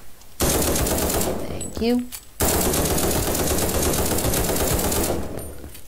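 LMG fire in the browser shooter Krunker: long, loud, rapid bursts of automatic gunfire, broken by a short pause with a brief rising electronic tone, while a player speaks a few words.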